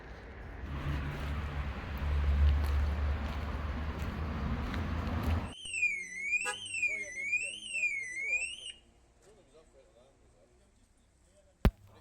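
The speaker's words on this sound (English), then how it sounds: "Oh dear, Benny Jazzmax decides his alarm's going to start blaring away." A car alarm sounds at an outdoor car meet, with its rising and falling warble blaring for several seconds after a stretch of background rumble and chatter. A sharp click follows once it stops.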